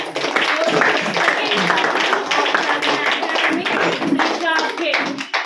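Loud, close clapping from an audience honoring a Sadhana Manorama Award recipient, dense and steady for the whole stretch with voices mixed in.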